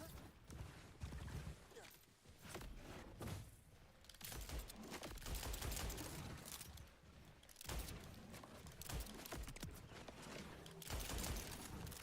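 Pistol gunfire in the video game Borderlands 4, dense overlapping loud shots and impacts in rapid bursts, continuous through the whole stretch with brief dips, no talk.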